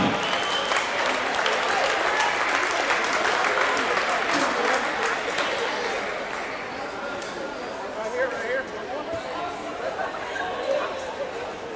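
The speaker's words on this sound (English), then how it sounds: "a big round of applause for your track MVP, Mr. Justin Knight." A large indoor crowd at a college indoor track and field championship claps and cheers steadily, dense and sustained, easing slightly toward the end, with an announcer's voice over the applause.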